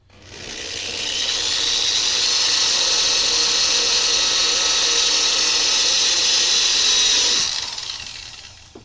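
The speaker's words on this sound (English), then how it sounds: "Drill bit's already hot." A power drill bores steadily through a computer case panel for a window mod, one loud continuous whine lasting about six seconds before it spins down and stops.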